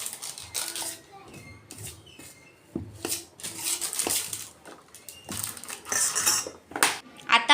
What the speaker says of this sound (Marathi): आता आपण याला मिक्स करून घेऊयात।